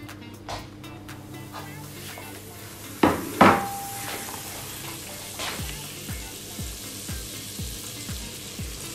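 Butter sizzling softly in a pan over low heat for bechamel sauce, a faint steady crackle with a couple of clanks of utensil against cookware partway through.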